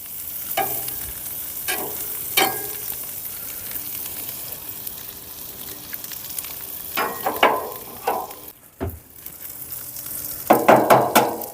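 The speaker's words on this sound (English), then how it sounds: "I'm gonna go ahead and drop an egg" An egg dropped onto a hot gas griddle for breakfast sandwiches fries with a steady close sizzle, broken by several sharp scraping clicks of a spatula that cluster toward the end.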